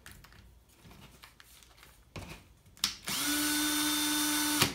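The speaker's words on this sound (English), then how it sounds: "Put it in your drill." A power drill fitted with a grout scrub brush whirs up to a steady high-pitched spin after some faint handling clicks, running loud and continuous to the end.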